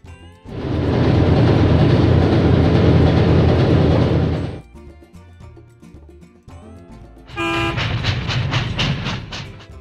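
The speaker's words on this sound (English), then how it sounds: "locomotive train." A train thunders past loudly, quiets to a rumble, then a locomotive horn blares in repeated short blasts over the rolling noise.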